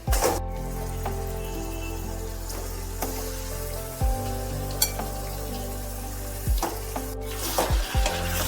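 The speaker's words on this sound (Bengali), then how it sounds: "গ্যাসের ফ্লেমকে একেবারে সিম করে দিয়ে দিচ্ছি ম্যারিনেট করা চিকেনগুলো।" Marinated chicken sizzles steadily in a hot pan with the flame turned low, a continuous frying hiss broken by a few sharp stirring scrapes and clinks.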